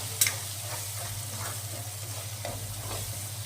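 Red chili powder and turmeric are stirred into a frying spice mix for dal bati, making a soft, steady sizzle with faint scraping strokes and a small clink at the start.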